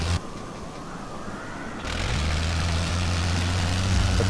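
A World War I biplane engine in a flight game: a steady low droning hum that jumps in level partway through and settles into a constant loud rumble.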